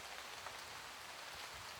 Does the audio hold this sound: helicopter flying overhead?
no